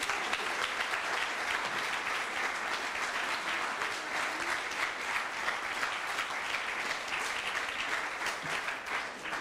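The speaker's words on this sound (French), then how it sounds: "Je pense qu'on peut tous les applaudir." Audience applause fills a hall at a political evening gathering in Le Chesnay, France: a dense, steady clapping that holds at an even level for nearly ten seconds with no voices over it.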